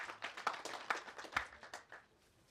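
A small audience at a company's customer meeting gives a quiet round of scattered hand claps that thin out and fade within a couple of seconds.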